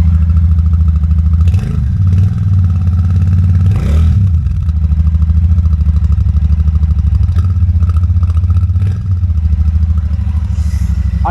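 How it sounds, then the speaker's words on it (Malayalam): A Royal Enfield Shotgun 650 twin-cylinder motorcycle idles with a loud, close, thumping exhaust, blipped up in a few quick revs that rise and fall before settling back to a steady rumble. "എൻജിൻ സ്റ്റാർട്ട് ചെയ്തിട്ട് ഇതിൻ്റെ എക്സോസ്റ്റ് സൗണ്ട് ഞാൻ കേൾപ്പിച്ചുതരാം."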